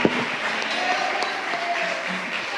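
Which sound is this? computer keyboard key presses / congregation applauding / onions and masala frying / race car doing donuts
congregation applauding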